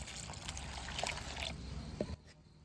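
Dry flattened rice (chira) is washed and squeezed by hand in water, giving faint, close trickling and sloshing with a few soft splashes, no voices.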